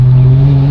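A Toyota Supra fitted with a single-turbo exhaust accelerates in second gear, a loud, close, steady droning exhaust tone filling the whole brief moment.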